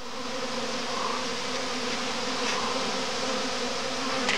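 A very strong honeybee colony on a twelve-frame hive by a poplar works flat out at the entrance, giving a dense, steady, close-up buzzing drone that holds at an even loudness throughout.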